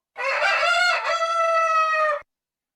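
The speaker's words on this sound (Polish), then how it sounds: "Właśnie tak zapiał kogut, gdy Piotr zaparł się Jezusa trzy razy." A single loud rooster crow, close and clear, rising then holding its harmonic call for about two seconds before stopping abruptly.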